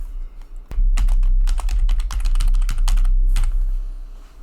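Rapid keystrokes as a password is typed on a computer keyboard, a steady, close, busy run of clicks with a brief pause near the end and no talking.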